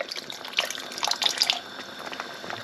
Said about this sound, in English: Just going to add some water into there